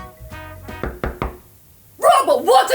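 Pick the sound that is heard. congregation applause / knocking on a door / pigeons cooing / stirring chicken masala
knocking on a door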